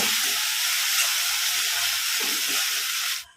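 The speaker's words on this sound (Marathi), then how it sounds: "गॅस आपण मंद ठेवूयात आणि त्यावरती व्यवस्थितच त्याला परतवून घ्यायचं आहे" Onion and tomato sauté in a pan over a low gas flame, making a steady, even hiss that continues unbroken before cutting off abruptly at the end, with no voices.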